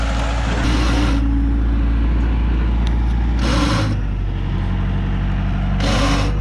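Car engine idling with a damaged starter motor, a steady low mechanical drone throughout, broken by two or three brief bursts of harsher grinding noise.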